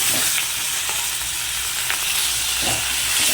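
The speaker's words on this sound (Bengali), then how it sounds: "দেখো মাথাটা ভাজা হয়ে এসছে" Steady, loud hiss of a fish head frying in hot oil, close up, with faint crackles throughout and no talking.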